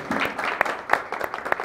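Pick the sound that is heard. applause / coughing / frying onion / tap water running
applause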